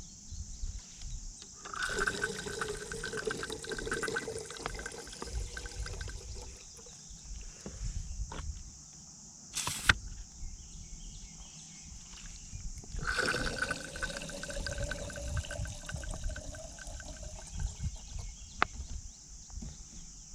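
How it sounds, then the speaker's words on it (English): River water gurgles and pours into a Mountain Dew bottle held in the Osage River, in two long filling bursts with a splashy trickle and a quieter pause between them. "We fill the Mountain Dew bottle up again, and we just repeat the process."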